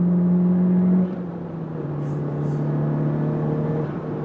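A turbocharged car fitted with a 27WON W2 turbo and running on 91-octane fuel pulls hard under acceleration. Its loud, steady engine drone drops in pitch after a second, as if shifting gear, then climbs again with a faint whine layered on top.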